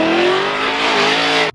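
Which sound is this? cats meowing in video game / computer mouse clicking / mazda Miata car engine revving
mazda Miata car engine revving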